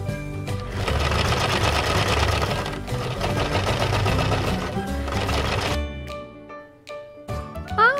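A toy washing machine with Play-Doh and a mold inside runs steadily, giving a loud, dense mechanical whirring and rattling for most of the clip before winding down to scattered clicks and tones near the end.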